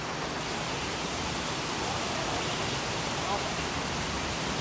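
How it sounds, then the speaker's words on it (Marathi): Heavy monsoon rain pours down in Raigad, a dense, continuous, even roar of downpour that holds steady without pause for the whole stretch. "पावसाचा जोर तितकाच वाढत चाललाय"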